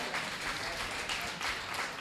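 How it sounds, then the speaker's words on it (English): A conference audience applauds a panel with a continuous wash of many hands clapping, moderately loud and even throughout. "Let's give our panel a round of applause."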